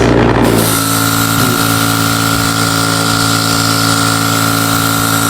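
An airbrush and its compressor run continuously and loudly while shoes are spray painted, a steady hum with a constant hiss that starts abruptly and holds unchanged throughout.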